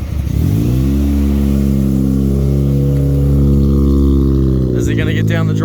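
A Mazda RX7 FC rotary engine, left sitting for 12 years, runs loud and steady on its first drive with a sustained droning rev and a brief change in pitch near the end.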